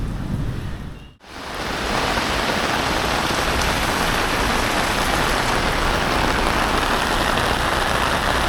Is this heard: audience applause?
no